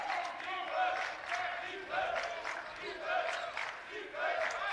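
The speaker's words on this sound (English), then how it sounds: "Get this crowd fired up and ready to go here." A crowd at an Alaska Nanooks men's college basketball game against Montana State Billings roars and cheers during an 8-0 run, a loud, sustained wash of voices with rising swells and no clear speech.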